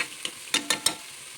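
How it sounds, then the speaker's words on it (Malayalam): Green chillies and masala sautéing in a pan, with a few sharp spatula scrapes and stirs over a soft sizzle, close and without any talk. "പച്ചമുളക് വേവിച്ചത് നല്ലപോലെ ഒന്ന് വഴറ്റി കൊടുത്തത് നല്ല പച്ചമണം മാറുന്ന വരെ"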